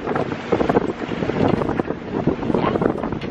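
A sailboat makes about eight knots across choppy open water on a breezy day, and steady, loud wind buffets the microphone over the rushing and slapping of water along the hull.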